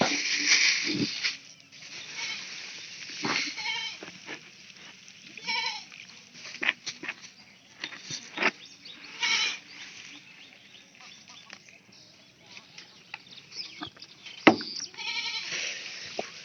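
Goats kept together with calves bleat repeatedly, some calls near and some farther off, with quiet gaps between the cries and a faint background hum.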